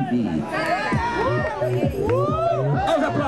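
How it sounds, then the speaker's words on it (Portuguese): A lively crowd at a live television variety show on a town square cheers and shouts loudly and without a break, with high-pitched voices mixed into the roar. "Vamos lá, um sonsaço aí para Baby"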